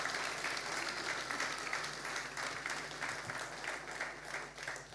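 A church congregation applauding, steady sustained clapping from a large crowd filling the room for several seconds.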